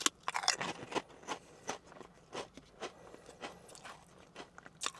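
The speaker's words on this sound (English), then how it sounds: "just you're chewing Pringles" Crisp crunching and chewing of Pringles Lite chicken-flavoured potato chips, heard up close as a run of irregular bites and munches with no talking.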